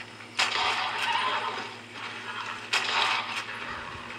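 A horse in the video game Red Dead Redemption whinnies twice, with a shrill, shaky call rising at the start and again midway, over a low steady background hum.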